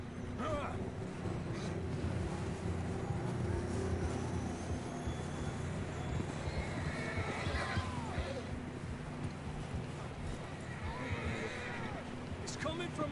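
A horse whinnies briefly in Red Dead Redemption 2, partway through continuous outdoor game ambience with rumbling movement. Voices seem to speak in the background.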